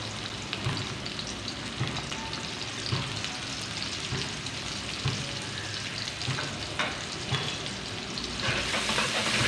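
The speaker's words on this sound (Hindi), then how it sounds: "प्याज को सौते कर लेंगे" Chopped onions sauté in four to five tablespoons of hot oil for keema macaroni, a continuous loud sizzle with scraping stirs throughout and no talking.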